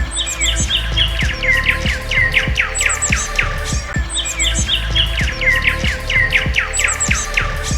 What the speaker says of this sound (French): depuis les oiseaux qui chantent